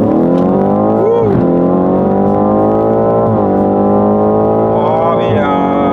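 A BMW F90 M5 accelerating hard from 100 to 200 km/h, its engine roaring loud and close from inside the cabin, the pitch climbing steadily through three quick upshifts.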